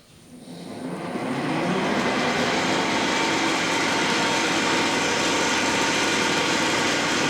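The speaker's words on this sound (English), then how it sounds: "I first need to touch with this drill" A lathe motor spins up over a second and then runs with a loud, steady mechanical whirr and grinding drone.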